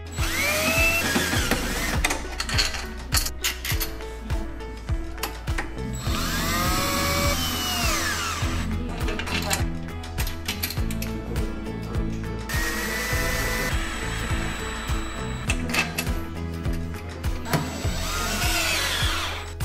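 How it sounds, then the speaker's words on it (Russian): A power tool drives bolts with washers to join an orthopedic bed base to its lift mechanism, with repeated whirring bursts of the driver and some clanks of the metal frame, close by and without speech. "Соединяем его с подъемным механизмом с помощью болтов с шайбами из комплекта фурнитуры."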